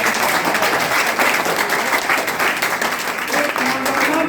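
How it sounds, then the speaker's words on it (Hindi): A crowd listening to a farmer leader's address gives a sustained round of applause, a dense and even wash of clapping heard up close with murmuring voices mixed in underneath. "ताली बजाइए सरकार की।"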